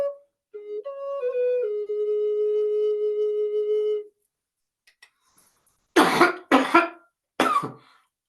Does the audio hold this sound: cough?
yes